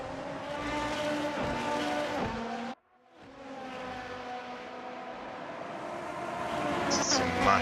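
Sim racing cars in a video game roar down a hill along a long straight, a steady layered engine drone with a brief dropout midway before the pack's whine returns and builds, with faint tyre squeal.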